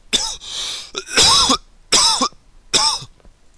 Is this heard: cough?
yes